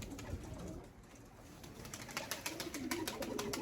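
Pigeons bathing in 35° heat coo softly and flutter, a close, low, steady murmur with brief wing flaps toward the end.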